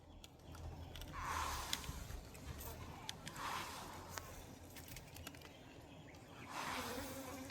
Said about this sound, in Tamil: இஞ்சால பார்த்தீங்கன்னா தேன் பூச்சி கொண்டு கூடு வாட்டி இருக்குது